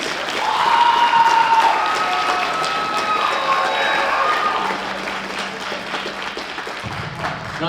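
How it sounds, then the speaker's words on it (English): An audience claps steadily for seniors at a school spring jazz concert, a dense, loud round of applause that slowly eases off. "round of applause, please"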